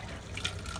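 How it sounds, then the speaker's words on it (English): Water sputters and splashes out of RV sink lines in an R-Pod camper as the water pump pushes it through, a short, close burst of uneven liquid spitting. "we're going to open these off and turn the water pump on real quick. And that should just get any water out from the water pump"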